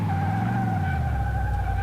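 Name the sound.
car brakes skidding in Car Mechanic Simulator 2018 video game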